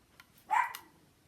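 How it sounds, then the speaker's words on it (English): A puppy gives a single faint, short yip at a distance in an otherwise quiet room. "Shush, puppies."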